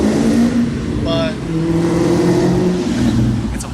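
A Ford Mustang engine at a car festival holds a steady, throaty rumble for several seconds, mixed with crowd noise and nearby voices.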